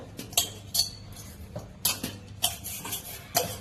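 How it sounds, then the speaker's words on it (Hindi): Metal puja utensils being washed by hand: close, irregular clinks and clatters of metal vessels knocking together, several sharp hits with scraping between them, no talking. "सबसे पहले हम कर लेंगे अपने पूजा के बर्तनों को साफ"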